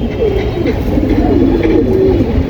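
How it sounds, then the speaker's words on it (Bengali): A female pigeon coos with a low, throaty, wavering call, heard up close and fairly loud over a dull background rumble. "সাতশো পঞ্চাশ টাকার একটা মাদি কবুতর"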